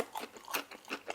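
Someone chews fried dumplings close to the mic, with several soft, crunchy bites coming in irregular bursts and no talking.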